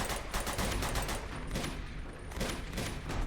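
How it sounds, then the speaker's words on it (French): Sustained gunfire in the video game Uncharted 2: Among Thieves, a loud dense barrage of rapid shots filling the whole moment with no let-up and no voices. "Je tire, mais... c'est dans le vide."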